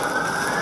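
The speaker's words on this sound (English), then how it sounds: "The ambulance is on the way. You can hear the sirens." An ambulance siren wails in one brief, steady tone that rises slightly, heard at moderate loudness over a low rumble.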